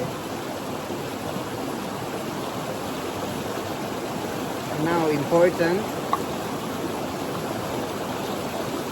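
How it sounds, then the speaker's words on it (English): Wild river water flowing in a steady, broad rush close by, with a brief spoken voice over it partway through. "Wild water from the river."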